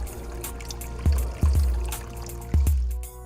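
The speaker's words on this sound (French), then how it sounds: "Videz le réservoir d'eau propre" Water splashes and trickles steadily as the clean water tank of a Hako Scrubmaster B45 floor scrubber is drained, with a few louder gushes and knocks close by and no talk.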